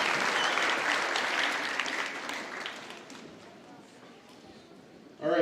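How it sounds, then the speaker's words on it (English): Applause rises from the audience at a sixth-grade school band concert, a full burst of clapping that gradually thins and fades before a voice begins speaking at the end. "You can applaud him if you like."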